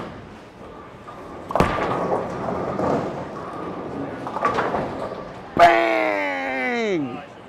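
A bowling ball hits the pins for a split conversion spare, with a sharp crash of scattering pins followed by rattling and a later loud clatter, heard close up with background noise.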